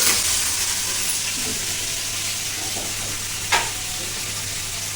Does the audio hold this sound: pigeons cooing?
no